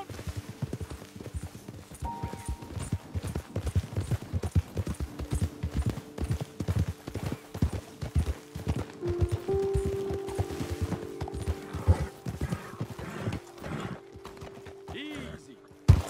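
Horse hooves clip-clop in a steady walking rhythm through most of the passage in the video game Red Dead Redemption 2, close and moderately loud, with faint game ambience and a few tonal cues underneath.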